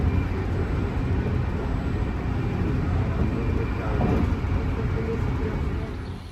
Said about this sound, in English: I'm on the train back to Florence,